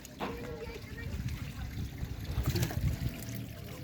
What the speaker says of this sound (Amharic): ወላሂ ውሃ እየፈሰሰ